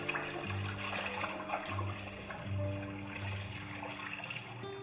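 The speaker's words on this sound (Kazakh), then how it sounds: "Алдымен блендерімізге сүтімізді құйып аламыз." Milk pours into a blender jug for a smoothie, a steady liquid splashing and gurgling stream that swells in short surges over a faint low hum.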